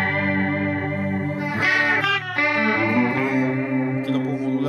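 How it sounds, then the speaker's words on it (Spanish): Electric guitar through a Blackstar ID:Core 20 amplifier's flanger, sustained chords with a sweeping, jet-like swirl that rises and falls, loud and close with no talking. "A mí me gusta mucho cómo suena este flanger."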